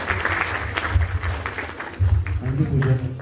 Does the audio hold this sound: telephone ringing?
no